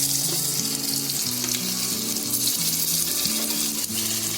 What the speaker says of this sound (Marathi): पॅन मध्ये तेल पण टाकलंय आणि आपल्याला डीप फ्राय नाही करायचे, शॅलो फ्राय करायचे